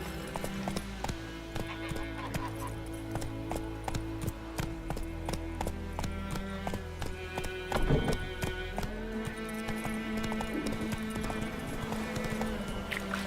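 A horse gallops in The Witcher 3 video game with fast, rhythmic clip-clop hoofbeats that run steadily the whole time, with a brief louder snort or whinny partway through.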